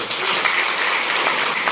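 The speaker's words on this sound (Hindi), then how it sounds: "सलाम है आपको पूरे परिवार की तरफ से, जोरदार तालियां।" Strong, steady audience applause at a Vivo mobile phone mega event, a dense wash of clapping filling the room at even loudness from start to finish with no talking over it.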